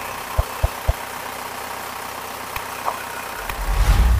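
A 2005 Isuzu Panther LM diesel engine ticks over at idle, a low steady rumble with a few sharp knocks early on and the engine note swelling louder at the end, no talking.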